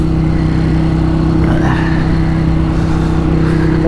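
A motorcycle with a freshly repaired radiator drones steadily while being ridden, its engine note loud, close and continuous with no pauses and no voices over it.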